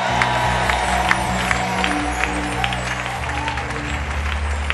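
A church congregation applauds and cheers in praise of Jesus, steady clapping and scattered whoops carrying on throughout over a sustained organ-like musical drone.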